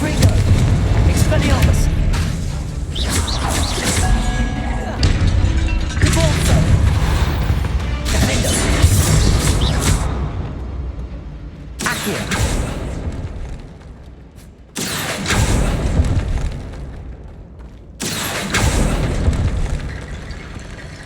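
Spell casts and explosions during Hogwarts Legacy gameplay, with incendio, confringo, expelliarmus and convulso spells firing: dense, loud booms and crashing bursts in several long blocks separated by brief gaps, with a voice calling out spell names over them.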